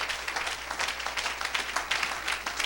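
A church congregation claps and cheers for Jesus Christ in a dense, steady burst of applause that carries on throughout, with no voices rising above it.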